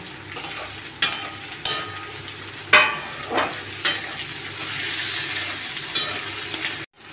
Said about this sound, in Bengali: পেঁয়াজটা মোটামুটি ভাজা হয়ে গেছে, এর মধ্যে এবার আমি টমেটো কুচিগুলো দিয়ে দিচ্ছি